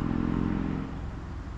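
A Cub Cadet RZT zero-turn mower engine that had not run in a while runs steadily, a fairly quiet low mechanical drone that eases slightly in the second half.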